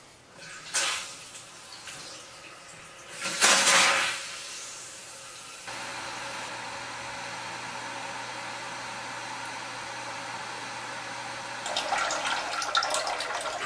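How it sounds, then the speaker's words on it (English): A newly installed toilet's tank refilling with water after being turned on: a few short splashes and a surge, then a steady hissing rush of filling water that carries on and grows slightly louder near the end. "Pretty slow toilet to fill up."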